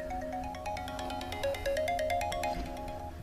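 A mobile phone ringtone plays at home, a bright repeating electronic melody of stepped tones sounding continuously and fairly clearly over a low background rumble, with no talking.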